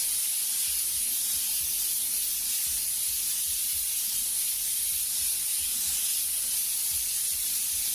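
An airbrush sprays paint in one continuous, even hiss, close and alone, blending overspray into a light-colored background.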